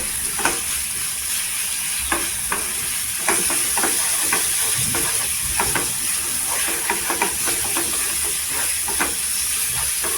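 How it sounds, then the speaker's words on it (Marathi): Red chillies frying in hot oil while being stirred, giving a steady close sizzle and hiss broken by frequent scraping ticks and light clatter from a spatula, with no voices. "1-2 मिनिट आहे ना तेलावर छान असं फ्राय करून घ्यायचं."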